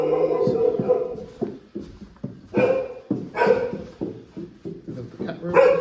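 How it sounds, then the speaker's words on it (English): Small puppies bark, yip and whimper in a rapid, uneven string of close, fairly loud calls, with no speech over them. "Little puppies."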